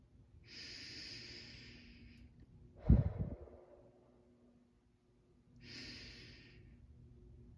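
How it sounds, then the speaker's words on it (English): Three deep, slow breaths in a calm guided setting: a long airy inhale, a short forceful exhale with a breathy rush, then another drawn-out inhale, close to the microphone with no talking. "we're going to take 3 deep breaths together"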